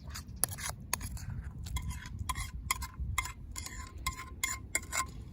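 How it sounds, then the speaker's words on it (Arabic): Utensil scrapes and clinks against a pot as pasta and kofta are stirred outdoors in the wild, a quick irregular series of metallic taps and scrapes over low rumbling background. "دابا نحرك هادشي مزيان."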